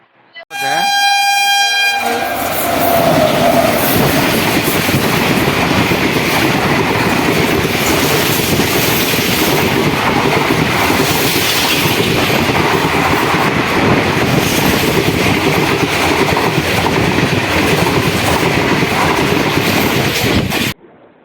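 A train rumbles past loudly and steadily at close range at a level crossing near Erode Junction, India, with a horn blast at the start and continuous rattling wheels over the track.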